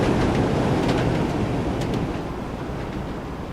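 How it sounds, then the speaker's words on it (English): A Class 101 diesel train in Train Sim World 2 rolls in with a loud, steady rumble and wheel noise that slowly fades as it passes, with faint clicks over the top. "So here comes the Class 101, one of the awesome trains, one of the all-time great trains for Train Sim World"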